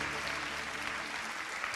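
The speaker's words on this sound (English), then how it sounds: "Give yourselves a big round of applause." Steady applause from a crowd at an AMD conference in Taiwan, even and sustained throughout, with no pauses or voices standing out.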